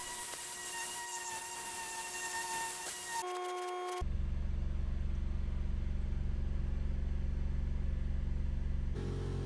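A Tomine Tornador-style air cleaning gun cleans car carpet with a loud, steady, rushing hiss and hum. It runs continuously after an abrupt start, with a higher whine just before it.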